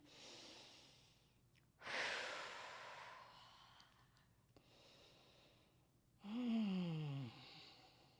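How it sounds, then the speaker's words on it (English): Quiet, slow breaths in and out through the nose during a post-run stretch come in soft, drawn-out waves separated by pauses. "slow breathing in through the nose, out through the nose"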